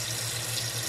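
A household tap runs freely after frozen pipes are thawed, a steady close rush of water with no voices.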